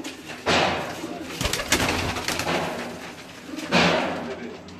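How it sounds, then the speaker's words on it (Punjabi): Pigeons on a rooftop loft in Gujranwala cooing and fluttering, with soft repeated coos and a couple of louder bursts of wing flaps or movement. "ਇਹ ਦੇਖੋ ਇਸ ਤੋਂ ਹੋਰ ਸੁਪੀਰੀਅਰ ਕਬੂਤਰ ਕੀ ਹੁੰਦੇ ਨੇ"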